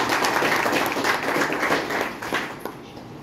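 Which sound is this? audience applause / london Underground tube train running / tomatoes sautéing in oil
audience applause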